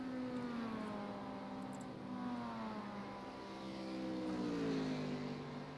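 Race cars, including Mustangs, run at Atlanta Motor Speedway at night. A steady, droning engine note rises and falls in pitch as the cars sweep past at a moderate distance.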